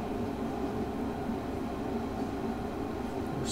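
A British Rail Class 150 diesel multiple unit runs along the line in Train Sim World 2, a steady low rumble and drone of engine and wheels heard from the cab, continuous and even throughout.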